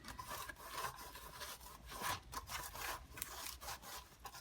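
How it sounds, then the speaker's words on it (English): Loose paint rattling against the metal body of a homemade Numatic NV350 vacuum, heard as a quiet, irregular scraping rattle in uneven bursts, close by and with no talk. "You can hear that rattling noise, that's the paint."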